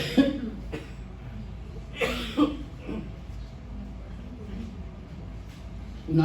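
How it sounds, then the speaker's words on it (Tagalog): A preacher delivering a Sunday sermon in church coughs several times, with short harsh bursts close to the microphone spread across a few seconds, alongside faint speech. "inuubo ko eh"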